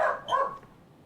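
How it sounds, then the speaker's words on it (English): A corgi gives a single short bark, heard alone and at moderate distance. "There's the bark just on time."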